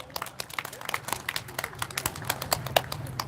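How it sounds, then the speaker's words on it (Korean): A crowd at an outdoor workers' rally in Gyeongju, South Korea, gives scattered applause, sharp individual claps popping irregularly at varying distances rather than a dense roar. "힘찬 박수 부탁드리겠습니다."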